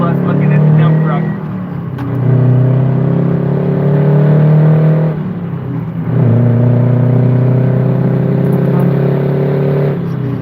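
A dump truck engine drones loudly as it drives past a school bus, a steady low rumble that surges and eases in two long swells, with someone talking over it; no distinct horn beep stands out.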